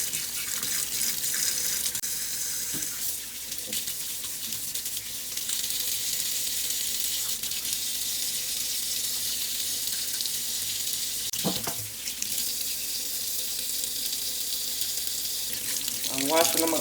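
Water streams steadily from a kitchen tap while pig tails are washed and scraped under it, a loud continuous hiss with occasional knocks and splashes, and a voice breaks in briefly.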